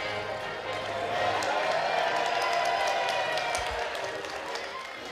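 A small crowd cheers at a Nigel Farage Brexit campaign event while The Great Escape theme plays faintly underneath, a steady, thin wash of voices and scattered clapping at moderate distance.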